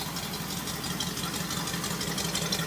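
A 1970 Ford Bronco with dual exhaust idles in a steady, low, even rumble with a faint rhythmic pulse, heard close and alone.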